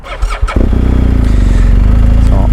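A motorcycle engine catches after a few short sputters, then idles and putters steadily and loudly up close while riding slowly through a cone weave drill, with no talk.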